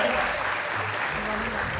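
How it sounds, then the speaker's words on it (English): Loud, continuous applause from an audience at a college freshers' party as guests are presented with bouquets, dense clapping throughout with voices murmuring underneath. "A huge round of applause for them."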